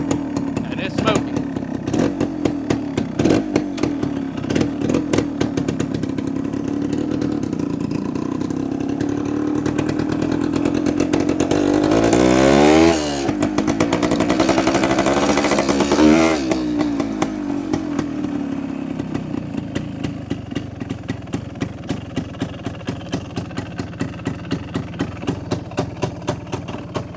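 A 1973 Suzuki TS250 two-stroke motorcycle, a 25-year barn find, idles with a rapid popping beat, then revs up loudly twice in the middle before settling back to a choppy idle, close by.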